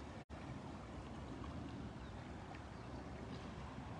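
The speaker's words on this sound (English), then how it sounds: "Can you hear the waves at this distance?" Broad, steady wash of ocean waves heard from a distance, a constant low rumble of surf with wind mixed in and no distinct breaks or voices.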